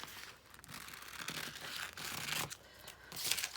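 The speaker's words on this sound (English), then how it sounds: "You can cut this little neckline out" Fabric being cut out around the neckline of a PPE gown, a steady run of crisp tearing and crinkling snips that repeats in bursts, close and fairly quiet, with no voices.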